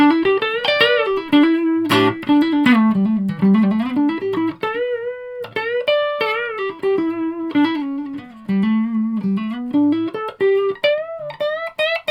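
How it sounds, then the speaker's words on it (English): A 1981 Washburn Eagle electric guitar plays a slow melodic line with sustained notes and a reverb wash trailing each phrase, clear and up front. "Reverb on."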